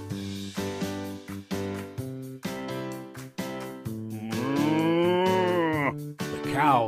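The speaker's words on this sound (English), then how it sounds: "The cows can see Farmer Tubby coming" Cows moo on a farm in a series of loud, drawn-out, close calls that overlap one another, with one long rising and falling low moo near the end. No one speaks over them.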